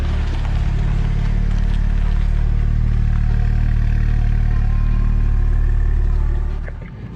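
A heavily tuned BMW drives around the block, its engine a loud, continuous low rumble with clattering texture that holds steady and then fades away at the end.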